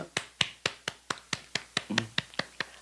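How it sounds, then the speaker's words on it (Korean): Applause during a Wednesday church worship service, heard as about a dozen evenly spaced, crisp claps in a steady rhythm, fairly quiet with no voices. "우리 하나님께 영광의 박수 올리겠습니다."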